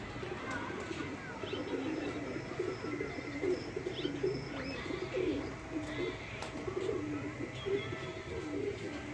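A large flock of pigeons on a rooftop coos steadily at moderate distance, a dense, continuous murmur of low throaty calls with occasional chirps over faint outdoor background noise.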